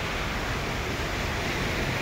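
Ocean surf at Tamsui beach in Taiwan on the Taiwan Strait gives a steady, dense roar of breaking waves with no pauses or voices, loud and close.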